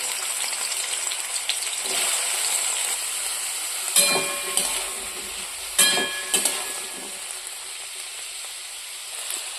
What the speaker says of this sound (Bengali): আর এইবার আমি ডুমুরগুলোকে সেদ্ধ করে রেখেছিলাম, সেগুলোকে আমি এবার ভাজবো।